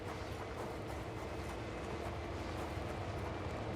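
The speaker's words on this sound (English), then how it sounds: "Oh, these trains are actually running." A train runs in the railway game Train Simulator World, a faint, steady low rumble with soft wheel noise that stays constant throughout.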